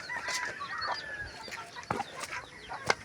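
Short, scattered clucks from a hen over a soft outdoor background, with a few brief chirpy calls.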